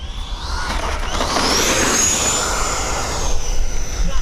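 An E-flite F-16 Viper RC jet with an 80mm electric ducted fan comes in to land, giving a steady loud whooshing fan whine with a slowly shifting high tone over wind rumble, close by and without talk.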